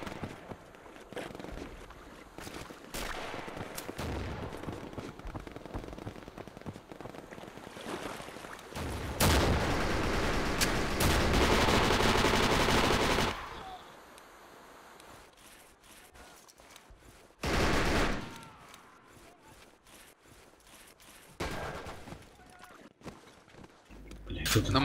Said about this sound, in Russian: Звук выстрела.